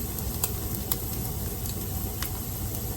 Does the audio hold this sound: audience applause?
no